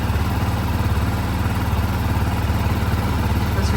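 A BMW G310 GS motorcycle engine idles with a steady, even low throb and fine mechanical clatter, close up and continuous with no talking.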